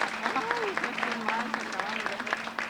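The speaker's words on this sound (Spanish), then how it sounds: "un aplauso más" A crowd claps steadily at a pageant queen's crowning while an amplified voice speaks over the applause, which stays loud and continuous throughout.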